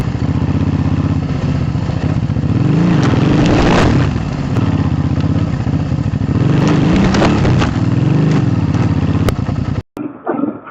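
A Suzuki V-Strom 650 motorcycle engine runs close by, revving and surging as the bike climbs over a log, then cuts off abruptly near the end with a brief clatter.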